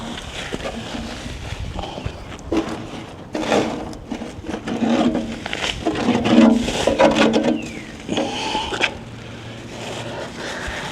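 Residue being scraped out of the bottom of a barbecue smoker, heard as repeated rough rasping strokes with scattered knocks, close by and fairly steady, with no talking.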